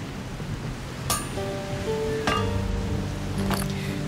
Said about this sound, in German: Dann muss ich es bearbeiten am Amboss